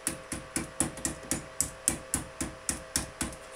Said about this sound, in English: we'll use the hammer to fold these back, and that will hold the back end of the flange